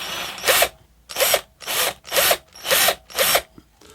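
A power drill whirs in six short, evenly spaced bursts, boring into a basswood carving block with brief pauses between each run.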